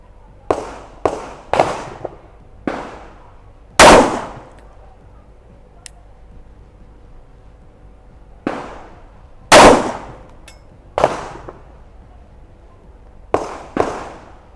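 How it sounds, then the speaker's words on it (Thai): Loud, sharp gunshots from a SIG P365 pistol fired at a target about ten yards away, single cracks spaced irregularly with quiet gaps between them. "เดี๋ยวยิงที่ ปอทางด้านขวามือนะครับระยะประมาณสักสิบหลา"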